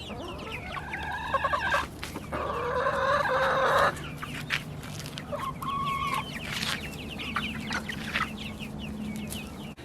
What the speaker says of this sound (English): It was the laying hens that were not very happy about them being out here.